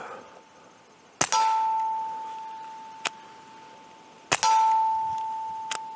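Suppressed Taurus TX22 Gen 2 .22 pistol with an FFT FRT trigger fires four sharp, close reports; the two loudest are each followed by a lingering metallic ring, and two fainter cracks come between and after them.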